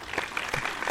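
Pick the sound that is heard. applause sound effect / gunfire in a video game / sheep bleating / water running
applause sound effect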